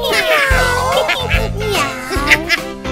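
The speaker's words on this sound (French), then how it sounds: "Miaou." A cartoon cat meows in a French children's nursery-rhyme cartoon, several stretched meows over bright music, upfront and loud.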